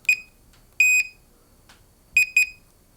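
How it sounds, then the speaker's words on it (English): Short electronic beeps from a Unitree Pump Pro powering on: one quick chirp, a longer tone, then a quick double chirp, clear and close in a quiet room. "it gives you a beep confirmation"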